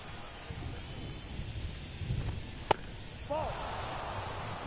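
Steady rain hisses through a baseball game in MLB The Show, a constant broadband wash with a brief sharp crack near the middle and faint murmur underneath.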